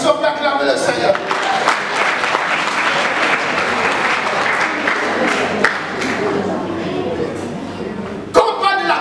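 A church congregation at a Sunday service claps and cheers in sustained applause for nearly nine seconds. A loud voice and crowd noise run over it, and a sharp burst comes near the end.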